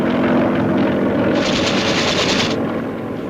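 Army helicopter in flight during military maneuvers, a loud continuous rotor and engine roar with a rapid chopping pulse that brightens for a moment mid-way and then eases slightly, with no voices.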